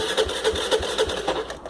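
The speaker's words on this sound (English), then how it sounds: "you can hear it kick over, so I don't think the engine's got any real problems" Aprilia Habana 125cc scooter engine cranking over without catching, a rhythmic mechanical churning with regular pulses about every quarter second, close and steady, no speech.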